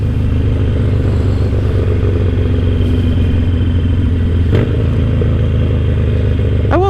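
Harley-Davidson Sportster Roadster 1200 with a Vance and Hines full exhaust, a loud, close deep rumble idling and burbling, with a sharp throttle blip near the end and rising revs at the close.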